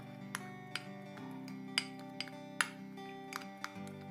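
A utensil clinks against a glass container while lemon juice and glycerin are mixed for a lip remedy, sharp evenly spaced taps over a faint steady hum.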